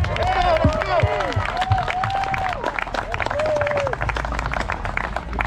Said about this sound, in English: can we give a round of applause for Ashlyn one more time?